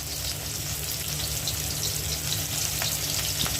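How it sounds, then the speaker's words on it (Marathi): Onion frying in a pan for a noodle dish, a steady dense sizzle heard up close without pause, with a few faint clicks and stirring touches on top. "कांदा माझा मस्त फ्राय झालेला आहे"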